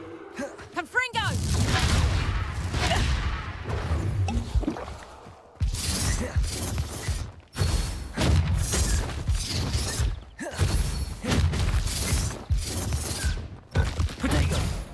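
Confringo blasting spells in the video game Hogwarts Legacy go off as repeated loud explosive bursts and crashes, separated by short gaps, with in-game voices calling out between them.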